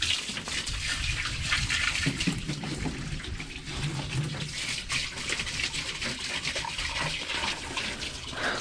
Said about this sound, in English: Trying to rinse most of the big stuff off into the bottom.